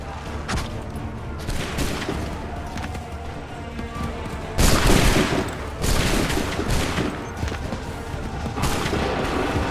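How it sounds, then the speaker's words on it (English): Musket volley gunfire in the Assassin's Creed III video game: loud cracking bursts of many guns firing together, with a heavy volley near the middle and several sharp shots around it over a continuous battle din. "Wait for my signal. Open fire."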